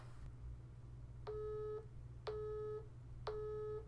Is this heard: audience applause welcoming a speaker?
no